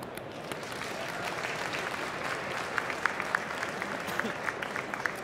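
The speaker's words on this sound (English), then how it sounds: "please give them a crazy round of applause" An audience at a startup pitch event applauds in a steady, moderately distant patter of many hands, with a few sharper claps standing out toward the end.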